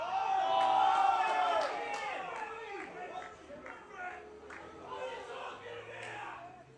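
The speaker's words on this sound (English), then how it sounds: "Fair bit of input from the crowd here today. Not too happy with that decision." Crowd at a seniors Australian rules football grand final loudly voicing displeasure at an umpire decision, a broad roar of many voices that peaks early and then settles into continuing chatter and shouts.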